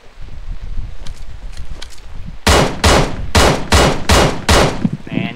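Gunfire in a shooter video game: a stretch of quiet in-game ambience, then six loud, evenly spaced shots ring out in a steady rhythm, with a brief rustle at the end.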